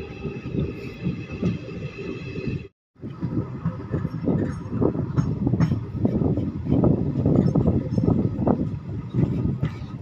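The Digha–Malda Town special passenger train leaving Contai station, a continuous heavy rumble with rhythmic wheel clatter from inside the carriage, briefly cut off early on before resuming, with no voices.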